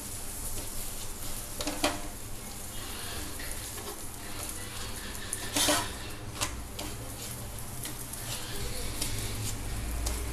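Layered chapati cooking on a hot pan while it is pressed at the edges, making a soft, low sizzle with light scraping and a couple of brief taps against the pan.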